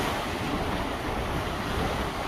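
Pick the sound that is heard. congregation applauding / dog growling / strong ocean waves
strong ocean waves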